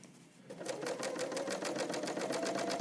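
A serger sewing machine stitches through jeans in a fast, even run of needle clatter that starts after a brief pause and carries on steadily at close range.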